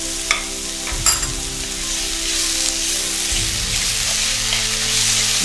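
Ginger garlic paste stirred into hot oil for Bengali-style spicy egg curry, a loud dense sizzle like heavy rain with a few stirring scrapes and clicks near the start, steady and close with no talk.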